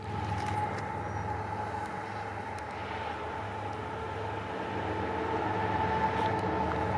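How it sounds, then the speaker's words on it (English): Heavy freight train locomotives rumble past at a distance in an industrial part of Toronto, a steady low diesel drone with a faint engine tone and no voices. "Hey, is there a train coming? There is a train coming."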